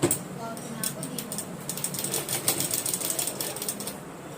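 A sewing machine stitches basic tailoring seams in a quick, even mechanical patter, faint and close, running on with brief pauses between passes.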